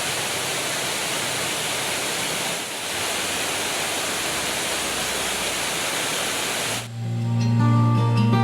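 A river rushing beneath a bridge near a campsite in Cavinti, Laguna, a loud, dense, unbroken roar of flowing water that gives way to a tonal hum in the last seconds.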